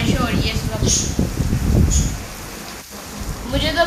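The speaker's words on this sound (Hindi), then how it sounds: "आप सब मुझे कमेंट्स में बताएं कि आप सब के किस किस घर में बारिश हो रही है इस वक्त।" Heavy rain pours down in Lahore, a broad hiss with rumbling low-end noise and a few brief brighter splashes throughout, fairly loud and close with no voices.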